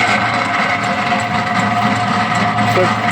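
Steady electric motor hum of a reworked meat mixer, bench-mounted without being bolted to a stand, running continuously at close range with a low droning tone and no voices.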